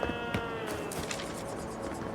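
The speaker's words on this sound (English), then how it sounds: "it sounds like there's a cow inside of here" A cow moos inside a building in the video game Avowed, a low, drawn-out bellow heard over ambient game sound.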